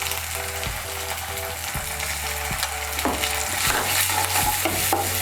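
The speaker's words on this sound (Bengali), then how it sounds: "মশলাগুলোকে তেলের সঙ্গে ভালো করে মিশিয়ে নেব।" A spoon stirs ground green chili and cumin paste into hot oil in a pan, giving steady sizzling frying with repeated scraping strokes against the pan, close and continuous, with no talking.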